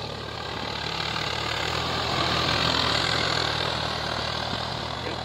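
A Swaraj 960 diesel tractor engine runs steadily at a loud, close, even drone, with no break or change in pitch and no voices.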